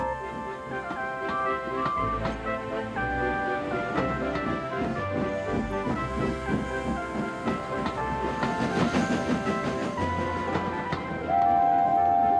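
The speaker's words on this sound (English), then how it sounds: "They chuffed gently into the station." A cartoon steam engine train chuffs along with rhythmic clattering and chugging into a station, accompanied by bright tonal music throughout.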